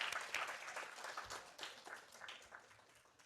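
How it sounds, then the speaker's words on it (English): Audience applause for Sarah Hunter fills a church gathering, a dense burst of clapping that fades gradually over a few seconds, heard alone without talk. "round of applause for Sarah Hunter"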